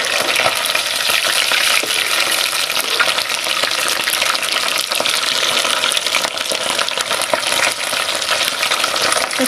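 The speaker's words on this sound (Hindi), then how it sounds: "तो चलिए अब अच्छा से फ्राई होने के लिए छोड़ देते हैं।" Fish fries in a pan for a village-style fish curry, giving a loud, constant crackling sizzle that stays dense and even from start to finish, close up with no speech.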